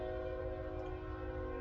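A passing train holds a steady, faint horn chord over low rumbling from the rails, sustained without a break for a brief moment.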